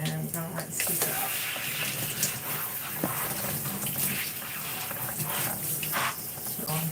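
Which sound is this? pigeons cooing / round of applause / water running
water running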